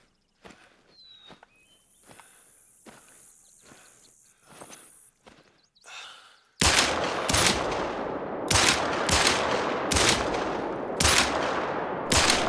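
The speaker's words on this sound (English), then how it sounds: "Okay, so yeah, this is another mag dump." A handgun magazine emptied in theHunter: Call of the Wild: footsteps first, then a loud, close run of single shots fired at a steady, quick pace, about seven sharp cracks in a row.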